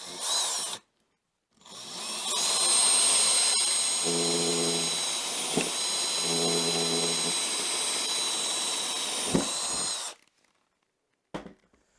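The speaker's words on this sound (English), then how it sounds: "I'm just going to drill out this hole" Electric drill boring out a hole in the end of an aluminium 2020 extrusion with an M4.5 bit, a steady close whine running about eight seconds with slight load changes, then stopping.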